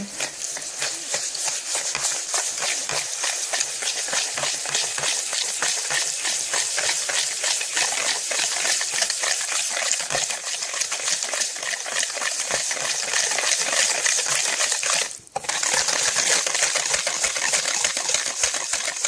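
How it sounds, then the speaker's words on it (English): Whisk clatters rapidly and rhythmically against a bowl as sugar is beaten into melted butter for brownies, loud and close, with a brief pause near the end. "we're gonna slowly whisk it till they both combine"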